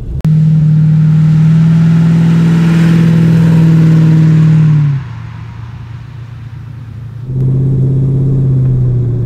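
A 1969 Maserati Ghibli 4.7 engine revs hard and holds a loud, steady roar for several seconds, drops to a rumbling idle, then revs up again.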